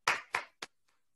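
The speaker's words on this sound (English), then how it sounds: "A virtual clap for all the teams." Three sharp hand claps ring out in quick succession for quiz teams, each quieter than the last, followed by a faint fourth and then silence.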